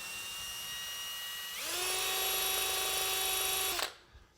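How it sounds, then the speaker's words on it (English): A drill fitted with a 3/16 masonry bit whines steadily as it bores into ceramic tile, rising in pitch partway through and then stopping abruptly after about four seconds. "You want to use a masonry bit, not a high-speed drill bit. This is made to go through tile. Make sure it's 3/16. And we're just going to drill."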